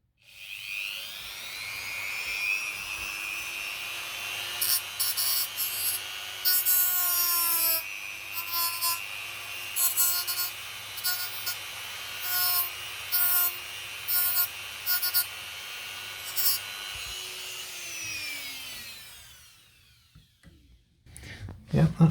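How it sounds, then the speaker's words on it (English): Hand sanding a small rigging plate for a Blackburn Monoplane model aircraft, a steady, close rasping rub with short repeated strokes over a continuous mechanical whine. "Then I'm just going to gently sand the top to get them flush."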